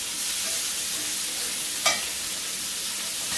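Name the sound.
rack of lamb searing and sizzling in pan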